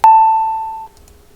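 Pickup chime from the Modstorm video game: a single clean, bright electronic tone strikes sharply and rings steadily for under a second before cutting off, heard alone with no talk.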